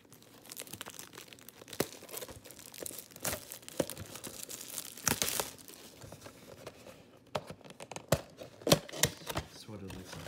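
A 2020 Topps Chrome Update card pack is torn open and handled close up, with crisp crinkling, ripping foil and scattered sharp clicks in an irregular rhythm while a person talks over it.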